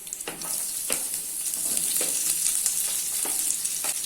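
Onions, garlic and green chillies sizzle steadily in a hot pan over medium flame, with a few soft stirring scrapes breaking through the constant frying hiss.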